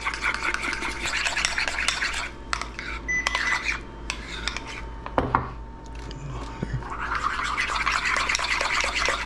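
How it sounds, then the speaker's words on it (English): Yogurt being stirred with salt and olive oil in a bowl, with close scraping and clinking of a utensil against the bowl in bursts, pausing briefly midway before resuming steadily. "And we're just going to mix that up."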